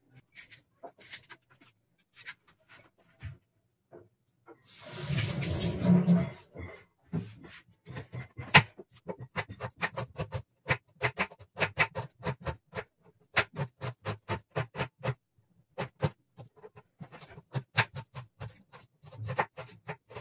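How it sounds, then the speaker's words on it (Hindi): Rapid, steady knife chops through onions knocking on a cutting board, a long run of sharp taps with a brief rustle partway through. "और अब बारी है प्याज काटने की"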